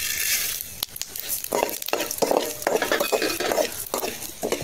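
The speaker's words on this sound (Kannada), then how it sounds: "ಈ ಕೊತ್ತಂಬರಿಯನ್ನು ಸ್ವಲ್ಪ ಫ್ರೈ ಮಾಡಿ ತೆಗೆಯುವ" Coriander seeds fry in a spoonful of cooking oil for rasam powder, a soft sizzle under repeated scraping and clinking of a spoon stirring against the pan, close and steady with no talking.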